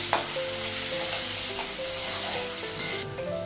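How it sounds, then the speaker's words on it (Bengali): Loud, steady sizzling of tomatoes frying in a pan, with occasional stirring scrapes, close up and continuous. "টমেটো ভাজা হয়ে গেছে"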